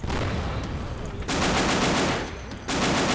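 A tank fires in the video game Call to Arms, set in the 1990 Iraqi invasion of Kuwait, amid a dense, loud roar of battle, with two heavy surges of gunfire crashing in over continuous combat noise.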